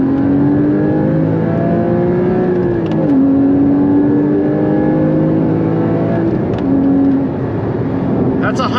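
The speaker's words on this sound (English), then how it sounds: "So this is a second gear pull" A Porsche 981 Cayman GT4 pulls hard through second gear, its engine note climbing steadily with a brief dip at a shift point, loud and close throughout over road and cabin noise.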